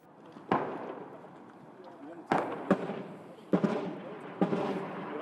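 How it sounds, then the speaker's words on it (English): Artillery and mortar barrage shelling a city, heard as several sharp distant booms and thuds spaced a second or two apart over a rumbling background. "Soon after, that power was unleashed. In prolonged artillery and mortar barrages."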